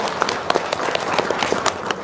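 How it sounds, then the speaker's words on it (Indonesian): Crowd applause at a gathering, brisk dense clapping with a few sharper individual claps standing out, fairly loud and mostly alone. "Wow, tepuk tangan dong."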